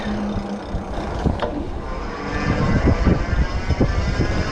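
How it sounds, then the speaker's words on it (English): Loud rushing wind buffets a microphone while riding a Windone K20 retro cruiser e-bike, a low rumbling roar with gusty bursts throughout. "Hope the wind noise isn't too much."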